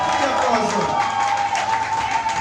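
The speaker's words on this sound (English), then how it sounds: "Keep the applause going." Wedding guests at a church reception clap and cheer as a crowd, a steady wash of applause with an MC's voice and another speaker talking loudly over it.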